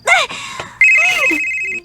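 A telephone rings with a steady electronic trill that repeats in two bursts, close and fairly loud, with a brief voice-like sound between the rings.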